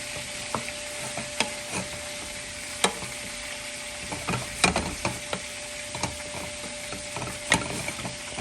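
A roux of flour and butter stirred in a pan for country gravy, giving a steady sizzle with scattered scraping clicks of the utensil against the pan, close and moderately quiet throughout.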